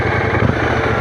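A Brixton Cromwell 1200 retro motorcycle engine runs close and loud in a steady, throbbing pulse, its rev briefly swelling midway.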